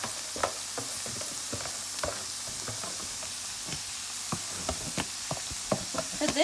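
Grated carrot stirred into rice frying in a pan, a steady soft sizzle with repeated scraping and stirring clicks, fairly quiet and close, no talking.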